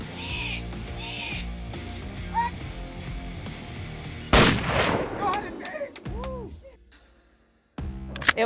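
A single loud, sharp rifle shot cracks out across a canyon during a bison hunt, followed by a rolling echo. Honking, goose-like bird calls sound before and after it.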